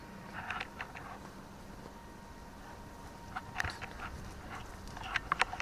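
A dog walked by a pound worker passes close by inside an abandoned military base. Faint, brief dog sounds come in scattered bursts over a quiet background.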